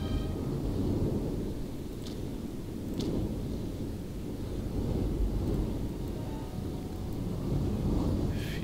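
A storm in the video game Ghost Master gives a continuous low rumbling roar with swelling waves of thunder, faint crackles and brief sharp bursts, at moderate loudness with no speech.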